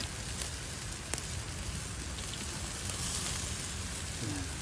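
Chicken sizzles on a homemade barbecue grill during rainy weather, a steady dense crackling hiss with occasional sharper pops, close and moderately loud.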